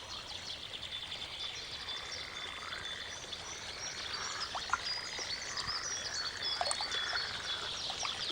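Frogs croak in a wild wetland habitat, a steady chorus of rhythmic calls close by and fairly loud, with occasional bird chirps mixed in over continuous background noise.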